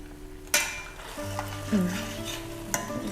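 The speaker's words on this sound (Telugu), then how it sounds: "మసాలాలు చికెన్ నూనెలో వేగాలి" Chicken and masala spices fry in oil over a slow flame for a chicken curry, a soft close sizzle broken by a few sharp stirring scrapes and pan clanks.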